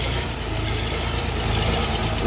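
A Xingtai 244 mini tractor, a 24-horsepower three-cylinder four-wheel-drive machine, idles steadily just after its first start in frost at minus five degrees, its close, even engine rumble running continuously with no talk.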